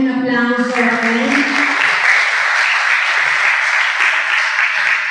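Audience applause welcoming a singer onto the stage, a loud, dense wash of clapping that holds steady for several seconds after a brief voice at the start.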